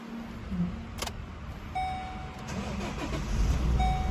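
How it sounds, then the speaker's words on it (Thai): 2014 Chevrolet Colorado X-Tra Cab with a 2.5 diesel engine starting, a brief crank and catch followed by a steady low idle, recorded close with a short electronic chime and faint background noise. "คุณลูกค้าผมขออนุญาตสตาร์ทเครื่องด้วยเลยนะครับ จะได้ฟังเสียงเครื่องนะครับว่าเพราะขนาดไหนครับผม"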